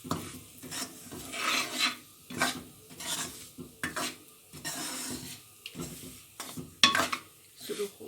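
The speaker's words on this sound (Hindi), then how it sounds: "एक कप जो सूजी ली थी वो हम डाल देंगे और ऑयल और सूजी को मिक्स करते रहेंगे अच्छी तरीके से" Dry semolina stirred in oil for halwa, heard as repeated rasping, scraping strokes of a spoon against the pan with soft sizzling, in bursts and pauses, close and fairly quiet.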